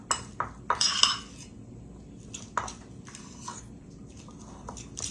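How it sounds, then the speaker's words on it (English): A fork mashes and mixes deviled egg filling in a bowl, with a cluster of sharp metallic clinks against the dish at first, then sparse softer taps and scrapes, close by and without talk. "Just start mixing it in with the back of your fork."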